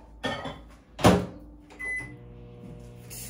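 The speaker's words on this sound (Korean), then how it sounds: "그래서 전자레인지 넣어서" Microwave oven used to heat food for about thirty seconds in a home kitchen: a thump and clunk of the door, a short beep, then a low steady running hum, close by.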